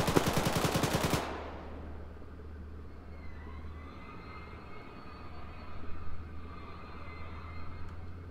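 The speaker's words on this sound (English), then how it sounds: "Shots coming in from northwest" Arma 3 combat: a loud burst of rapid automatic gunfire opens, then cuts off into a low steady armored vehicle engine rumble with faint distant pops and shots scattered afterward.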